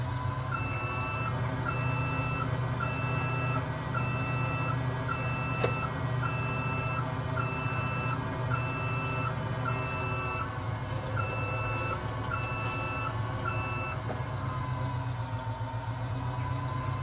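A combine harvester in Farming Simulator 17 driving with its reversing alarm, regular evenly spaced beeps over a steady low engine drone for the whole stretch.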